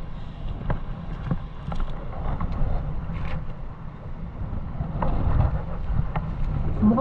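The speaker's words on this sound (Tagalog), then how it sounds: "Ang lakas kasi ng hangin" Strong wind gusts across a cold seashore beach, a steady broadband roar with buffeting against the microphone that swells and surges throughout, loud and continuous with no voices.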